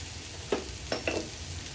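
Cut long beans with a pinch of salt hiss softly in a pan, broken by a few short stirring scrapes.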